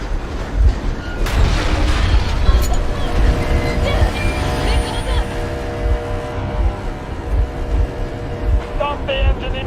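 A boat engine runs in the Metro Exodus video game, a loud continuous low mechanical rumble with rattling and thumps, while a voice speaks over it.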